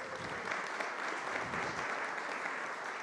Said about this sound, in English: please applaud the library